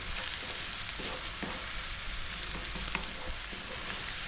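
Vegetables for a broccoli cream sauce pasta sauté over above-medium heat, kept moving in the pan. A steady, close hiss of frying runs throughout, with light scraping and tapping from stirring.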